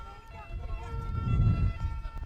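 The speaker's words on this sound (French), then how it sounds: "Non, ça c'est une ambulance." An ambulance siren wails in a busy street, rising over traffic noise and nearby voices as the vehicle passes.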